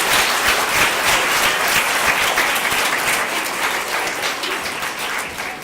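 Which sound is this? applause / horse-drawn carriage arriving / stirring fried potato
applause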